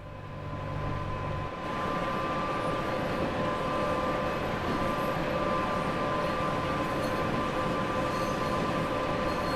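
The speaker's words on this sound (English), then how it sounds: "This is a heavy train" A heavy double-headed train in the game Just Trains West Coast Main Line, running Preston to Carlisle, gives a steady, loud broadband rumble, with a low hum dropping away early on and an otherwise unchanging drone.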